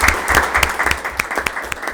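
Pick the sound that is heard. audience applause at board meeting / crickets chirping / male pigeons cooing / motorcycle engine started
audience applause at board meeting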